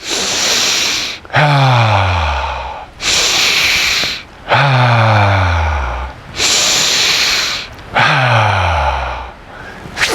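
Slow, heavy exhalations through an open mouth, each a long breathy whoosh, repeated about five times in a steady rhythm with short pauses between.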